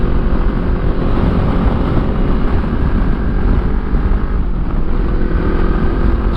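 A motorcycle rides along a bush track, its engine a steady close drone buried under heavy, continuous wind rush across the microphone, with no talk.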